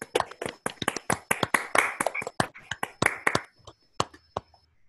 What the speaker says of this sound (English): Maybe we can all unmute ourselves and clap for Marthe.